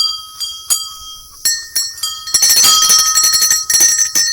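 A metal temple bell is struck several times, sharp and close, then rung rapidly in a dense run of overlapping clangs.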